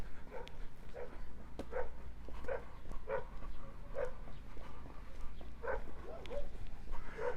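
Dogs bark repeatedly in a Russian village street, a steady series of sharp barks roughly every half second to second, moderately distant over a constant low background rumble.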